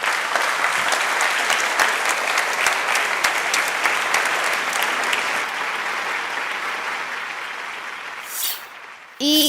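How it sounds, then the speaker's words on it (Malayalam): Loud, dense applause from an audience at a live hypnotism show rolls on for several seconds, thins out near the end, and gives way to a voice starting to speak. "നല്ലൊരു ക്ലാപ്പ് കൊടുക്കാം അവർക്ക് വേണ്ടി"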